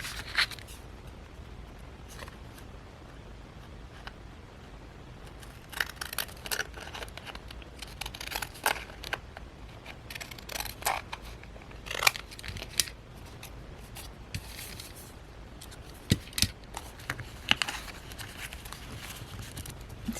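Scissors snipping down a paper junk journal page, a run of short crisp cuts close by, irregular and fairly quiet, with light paper rustle between them.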